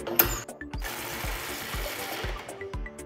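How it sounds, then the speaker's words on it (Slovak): A cordless battery-powered angle ratchet tightens a screw, giving a rapid mechanical ratcheting buzz with rhythmic clicks, close and loud, with no talking. "po utiahnutí spoja som dostal jemnú ranu, následne sa račňa zastavila"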